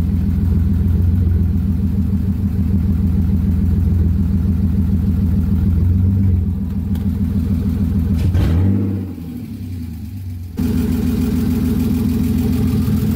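A freshly rebuilt car engine, started for the first time, idles loudly and steadily up close with a deep rhythmic rumble, briefly dipping and revving before settling back to idle.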